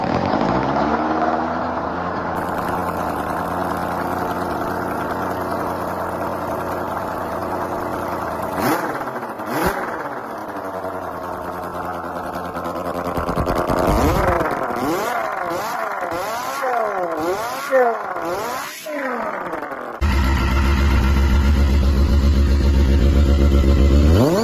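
A restored Honda CBR250 engine, nearly 30 years old, idles steadily, then revs in a run of sharp throttle blips rising and falling in pitch, settling into a louder, rougher drone at the end.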